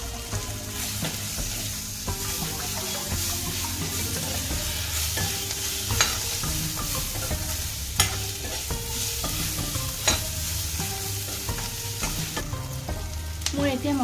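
Chicken masala spice blend sizzles steadily while frying in a pan, with repeated scraping and clinking stirs of a spoon against the pan over a continuous frying hiss; no talking.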